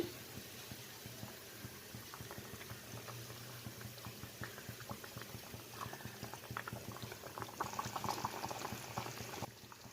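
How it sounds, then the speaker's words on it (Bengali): Parshe fish simmering in a masala gravy, with a steady, dense bubbling and popping that runs continuously at moderate volume throughout. "কারণ মাছটা বড় পিস আছে আর একটু গ্রেভিতে ফুটবে মাছটা এখন আমি মাছটা দিয়ে দিচ্ছি"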